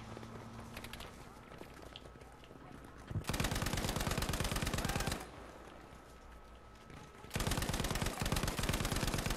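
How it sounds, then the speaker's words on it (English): A Lewis gun in Battlefield 5 hammers out two long sustained bursts of automatic fire. The bursts are separated by a quieter stretch of battlefield ambience and sound close and loud. "Lewis gun"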